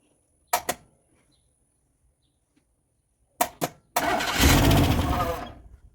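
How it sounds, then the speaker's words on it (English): A Jeep Comanche that hasn't been started in a while, fitted with a rebuilt Saginaw power steering pump, cranks in two brief pairs of starter bursts, then fires up into a loud, steady engine roar that fades near the end. "It's been a while since I started the Comanche"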